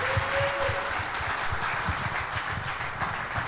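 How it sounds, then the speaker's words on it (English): A live studio audience applauds two Packers football players at the close of a show. The applause is a continuous, fairly loud wash with a low thumping underneath, holding steady throughout. "How about a big round of applause for these guys here tonight"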